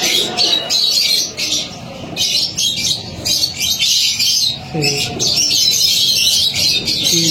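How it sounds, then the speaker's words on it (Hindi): Pigeons and other birds at a Karachi bird market, a busy mix of chirps, squawks and low cooing close by, with bursts of bright calls over a murmur of background voices. "और बहुत अच्छा कबूतर है।"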